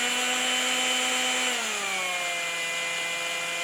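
A power drill on slow speed turns the distributor of a Datsun 260Z/280Z. Its steady, close, whining motor tone drops lower about halfway through and then holds at the slower pitch.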